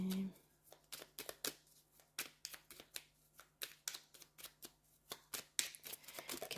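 Oracle cards being shuffled by hand, a rapid series of crisp riffling and slapping bursts, close and fairly quiet, with brief pauses between shuffles.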